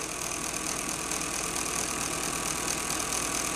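A small electric motor with anti-cogging control hums and whirs steadily as its speed climbs, a continuous dense drone without talk.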